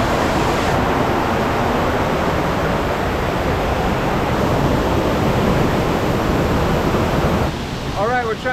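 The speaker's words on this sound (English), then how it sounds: "we're trying to cross so we can get on top of this waterfall right here" A North Carolina waterfall at Hippie Hole roars close by, a loud, steady rush of falling water that fills the whole stretch, with a brief voice at the very end.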